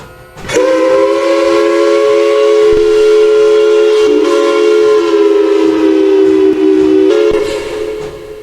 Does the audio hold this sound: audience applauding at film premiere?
no